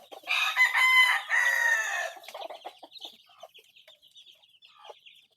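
A talisayin rooster crows nearby, a loud drawn-out call in two strong bursts, followed by softer clucks and chirps trailing off.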